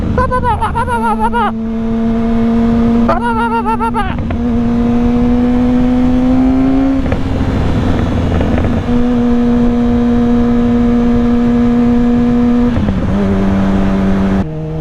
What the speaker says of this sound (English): In third gear, go about 8 grand. Let's just let off the throttle